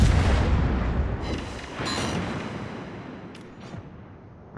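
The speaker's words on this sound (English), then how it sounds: "Here goes the armor-piercing shells." Naval guns fire armor-piercing shells in World of Warships, a heavy booming blast followed by a decaying rumble, with a few sharper cracks and whooshes trailing off afterward.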